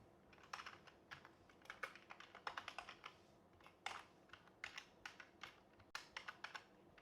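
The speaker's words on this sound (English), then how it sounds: "we type in SSH, the username, followed by the IP address." Quiet, close typing on a computer keyboard while an SSH command is entered, with irregular clusters of key clicks continuing steadily throughout.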